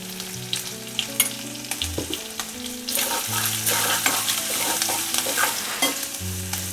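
Asafoetida dropped into hot oil for a tempering while making rice-flour ukad, giving a busy sizzle with stirring and clinks, a brief burst then steady frying that swells louder midway; music-like tones run underneath, no talk.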